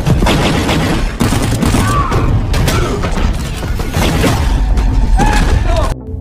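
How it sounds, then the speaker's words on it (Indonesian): Gunfire in an action film as special forces team members are shot, dense loud bursts and crashes packed together, with narration over the top. "Akibatnya dua orang anggota dari tim pasukan khusus tewas tertembak, yaitu Zack dan Axel."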